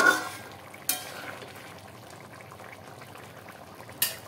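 Bengali jackfruit curry (echor kalia) simmers in a pan with a soft, steady bubbling, broken by two brief metallic clinks near the start and end.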